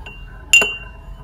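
Metal spoon clinking against a coffee cup while sugar is stirred in, a single sharp ringing clink up close in a quiet room, fading quickly.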